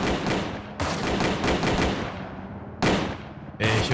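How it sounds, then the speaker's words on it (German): Rapid bursts of gunfire in Ring of Elysium crackle loudly, with dense overlapping shots, brief pauses, then fresh volleys near the end. "ich höre hier überall Schüsse"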